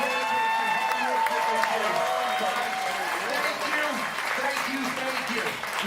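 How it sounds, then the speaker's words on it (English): Audience applause at the Arizona FIRST Tech Challenge POWERPLAY robotics season kickoff, a steady loud wash of clapping and crowd noise filling the whole stretch, with voices mixed in under it. "Can we give a huge round of applause to both our head wraps in Arizona?"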